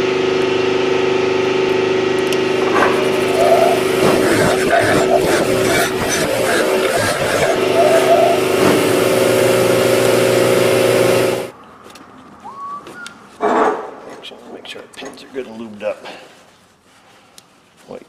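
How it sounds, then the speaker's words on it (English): Sandblaster blasting a seized brake caliper pin from a Ford Freestyle, a loud steady hiss with a continuous hum that runs for about eleven seconds and then cuts off, leaving quieter clinks and handling noises. "I'll give him a little toot with the sandblaster."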